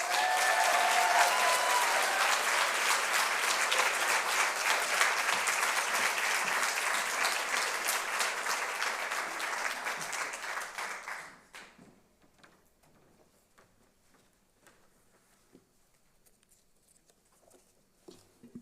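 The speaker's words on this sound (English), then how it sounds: "So please share our hearty applause for Stuart Quo." Applause fills the room at an evening awards ceremony, loud and sustained for about eleven seconds before fading quickly into near silence with a few faint scattered sounds.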